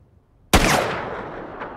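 A single loud, close gunshot from a makeshift gun in No Country for Old Men cracks after a near-silent pause and then rolls into a long, booming reverberant tail.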